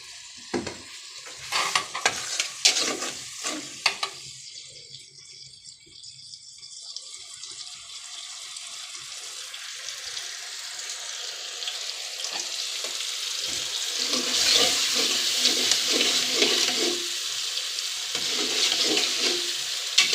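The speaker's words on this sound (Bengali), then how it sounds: "এই যে দেখুন ভাত রান্না করতেছিলাম" Rice cooking in a pot, with an opening burst of clattering and stirring that settles into a long bubbling, hissing simmer which grows louder and steadier over time, close by, with no voices.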